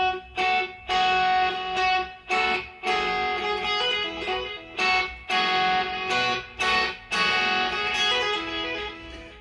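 Electric guitar playing the opening lick of a solo, with bright distorted notes on the first and second strings in short repeated phrases separated by brief gaps.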